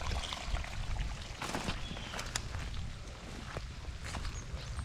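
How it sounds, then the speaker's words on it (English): Water trickling and pouring from beneath the ground near a fallen log and a possible sinkhole on rural property, a steady close gurgling flow with scattered drips and splashes, outdoors, with no talking. "I've got water falling from under the ground here."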